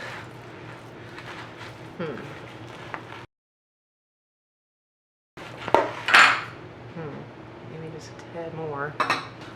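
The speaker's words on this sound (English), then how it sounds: "let's see if we can go ahead and mix this up" Ingredients for creamy poblano chicken enchiladas are mixed in a bowl with a utensil, producing clinks and scraping against the dish in two bursts broken by a silent gap, with talking over it.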